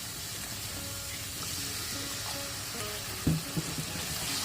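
A spice paste fries in a wok with a little water for beef liver bhuna, giving a steady close sizzle throughout, broken near the end by a few brief knocks of a stirring spoon.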